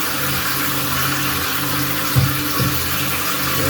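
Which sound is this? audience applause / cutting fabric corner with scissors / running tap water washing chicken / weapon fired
running tap water washing chicken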